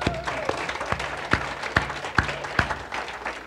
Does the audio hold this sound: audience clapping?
yes